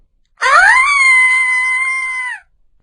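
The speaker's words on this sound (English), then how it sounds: "Amy screamed." A young girl character in a children's story lets out one long, loud, sustained scream of about two seconds, heard alone against silence.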